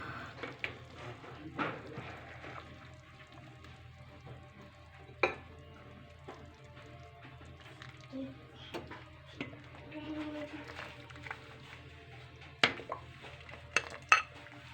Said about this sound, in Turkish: Şimdi güzelce karıştırıp çorbamız oldu.